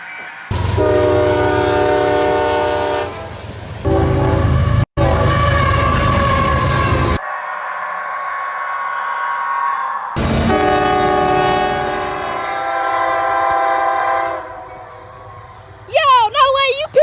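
A train passes close by, its loud horn blowing in several long sustained blasts with short breaks between them, over rolling rail rumble.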